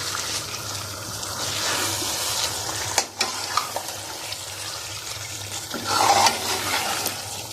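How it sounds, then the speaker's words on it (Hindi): Rohu fish pieces are stirred into masala in a pan for fish korma, a steady close sizzle and wet scraping with a spoon knock near the middle, no talk. "मछली जैसे आप मसाले में शामिल करें, इसको अच्छे से हिला लें"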